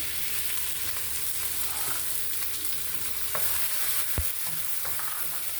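Oil sizzles steadily in a pan with coriander stems for fried rice chicken, a dense, continuous hiss with a few faint clicks and taps of a utensil, close and alone without talk.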